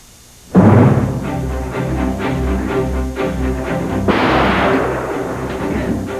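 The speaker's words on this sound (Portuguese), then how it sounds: "Foi um tiro. Calibre 38." A single .38 caliber gunshot bursts out sharply and loudly after a brief quiet, followed by a long rumbling tail and a second heavy swell of noise.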